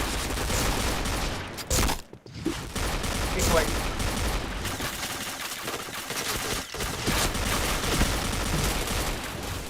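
Rapid gunfire bursts from an AK rifle in a shooter video game, dense and continuous with a brief drop near two seconds, set against a busy game soundscape.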